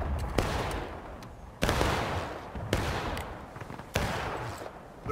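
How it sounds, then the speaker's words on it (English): Musket volleys in the Civil War game War of Rights, with four or five loud, booming massed discharges at roughly one-second intervals, each followed by a rolling, crackling tail of scattered shots and echoes across the field. "They're doing volley fire like a bunch of idiots"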